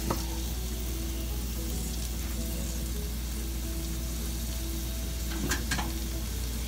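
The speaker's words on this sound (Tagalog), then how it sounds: "Ihalo ko na yung luya dito." Ginger is stirred into a frying pan, giving a constant close sizzle with scraping stirs and a couple of clinks of the utensil against the pan, no talk.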